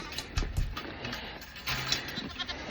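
Goats on a farm bleat several times around a garage, close and fairly loud, mixed with clanking of a chain and metal parts.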